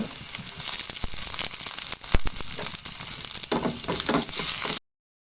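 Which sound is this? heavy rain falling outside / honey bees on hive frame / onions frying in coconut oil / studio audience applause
onions frying in coconut oil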